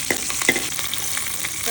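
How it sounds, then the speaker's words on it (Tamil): Garlic and curry leaves sautéing in oil for fish curry make a close, steady sizzle, with a few quick stirring scrapes early on. "லைட்டாக வதங்கிட்டு வெள்ளைப்பூடு நல்லா வதங்கணும்."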